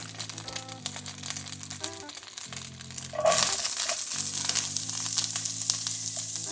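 Onions dropped into a hot pan for chicken liver gravy: a quieter crackle swells into a loud, dense sizzle midway and keeps hissing steadily to the end.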